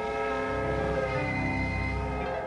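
Steam locomotive whistle on iron rails, a loud sustained harmonic blast held steadily for the whole stretch without a break, with a low rumble underneath.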